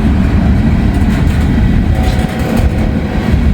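A freight train rolls past at a train meet, a loud, steady low rumble with rolling wheel and car noise holding without a break from start to end.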